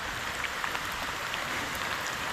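Heavy rain pouring down outdoors, a dense, steady hiss of water with no pauses, close and fairly loud, no voices.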